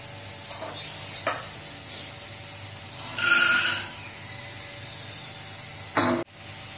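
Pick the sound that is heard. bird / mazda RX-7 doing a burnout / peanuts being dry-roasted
peanuts being dry-roasted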